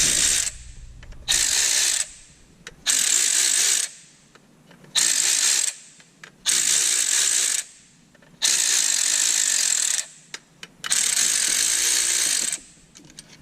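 Ratchet wrench clicking in repeated bursts while loosening bolts on a BMW 328i N20 engine's valve cover, about six close, loud ratcheting runs separated by short pauses, with no talking.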